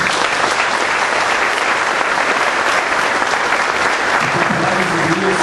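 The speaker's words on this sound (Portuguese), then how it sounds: "você pode aplaudir a palavra." A church congregation applauds during a Catholic preaching service, a dense, continuous wash of clapping that stays loud and even from start to finish.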